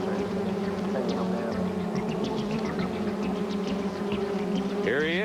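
A dense swarm of bees hums steadily around a bee-bearding champion in a 1985 television studio, a continuous close drone with no talk over it.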